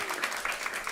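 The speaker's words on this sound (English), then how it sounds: "Round of applause again." A brief burst of audience clapping, fairly faint and dense, lasting only a moment.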